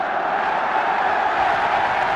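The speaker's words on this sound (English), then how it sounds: "what a cheer for McLintock as he goes up to get the FA Cup" A large stadium crowd at the 1971 FA Cup final between Arsenal and Liverpool cheers steadily for Frank McLintock going up to collect the cup, a dense, continuous roar without breaks.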